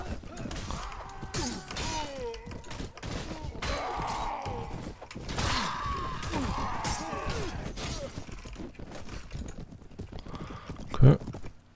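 Clip-clopping horse hooves with repeated neighs and whinnies in the medieval combat game Mount & Blade: Warband, steady and busy under battle clatter and occasional crashes, with a sharp impact near the end.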